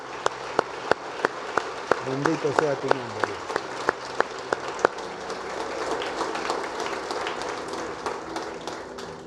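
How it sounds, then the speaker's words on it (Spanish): Congregation applause in a Spanish-language church service, with sharp rhythmic claps over a broad wash of clapping that fades into a murmur, and a voice speaking over it. "Le damos un fuerte aplauso al Señor."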